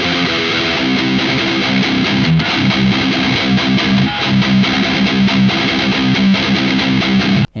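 An electric guitar plays through the Jeff Loomis Devil's Triad pedal with overdrive and boost engaged together, giving a loud, continuous, heavily distorted riff that cuts off abruptly at the end.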